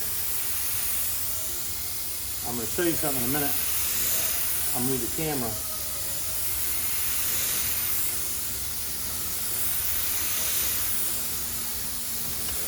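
A steady hiss of a spray gun spraying primer on a BMW part runs throughout, broken by someone speaking briefly in the middle.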